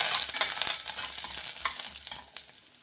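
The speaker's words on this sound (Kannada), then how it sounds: "ಈಗ ಇದಕ್ಕೆ ನಾವು ಕರಿಬೇವನ್ನು ತೊಗೊಂಡು ಹಾಕ್ಕೊಳ್ತಿದ್ದೇನೆ" Curry leaves dropped into hot oil with peanuts browning in it, making a steady close sizzle with scraping stir strokes and brief crackling pops, while making mint rice.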